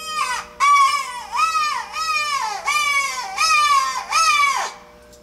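A crow predator call blown with its reed pinched gives six loud, close, wailing calls, each sliding downward in pitch and spaced about evenly, with short silent gaps between them.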